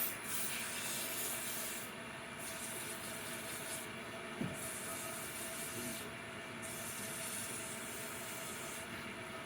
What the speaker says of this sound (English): And I like to go back and forth when I'm sanding like this.